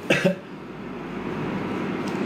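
A single short cough near the start, then a low steady background hum for the remaining moments.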